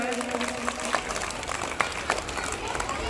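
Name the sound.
applause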